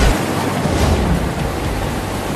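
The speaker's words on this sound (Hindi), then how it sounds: "देखो कितनी तेज बारिश हो रही है।" Heavy rain pours down in a village, a dense, steady hiss and roar with no breaks and no voices over it.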